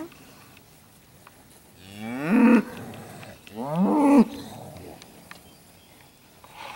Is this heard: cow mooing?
yes